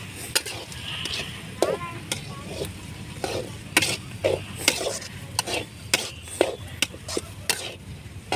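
A spatula stirs and scrapes a mushroom chilli mixture in a pan, giving irregular knocks and scrapes over a low frying sizzle.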